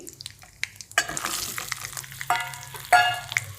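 Cumin, mustard seeds, asafoetida and turmeric hitting hot oil for a tempering, a close sizzle that swells in bursts with sharp pops and spatters, no talking.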